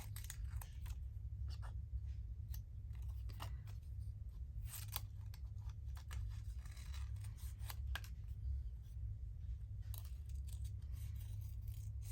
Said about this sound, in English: This is quite an easy flower to cut out.